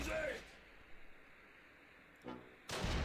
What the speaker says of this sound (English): Civil War cannon, go!